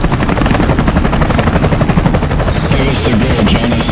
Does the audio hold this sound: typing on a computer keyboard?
no